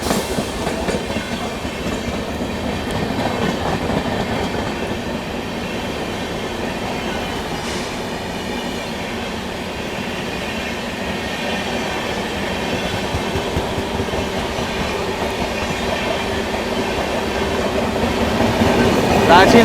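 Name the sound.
Ranchi New Delhi Rajdhani Express train passing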